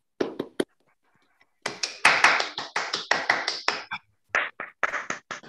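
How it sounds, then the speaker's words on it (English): Several people clap one after another with open microphones in an online seminar, heard as sharp, close, uneven claps in short bursts separated by gaps of silence, with no talking. "please open your microphones and let's give Alexis an applause"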